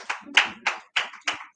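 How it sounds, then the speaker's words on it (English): A few people clap in sparse, slow rhythm, five distinct separate claps as an audience at an agricultural biotechnology workshop for senior editors welcomes a union secretary. "Can you please welcome him with a round of applause?"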